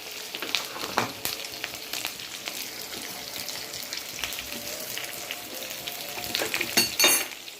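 Onion frying in a pan for a South Indian tomato kadayal with green chillies, salt and curry leaves, giving a steady soft sizzle and stirring, with a louder splash of tomato purée near the end and no talking.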